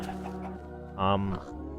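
A chicken in Alpha Minecraft gives a single brief cluck midway through, heard over someone talking and a continuous low game background.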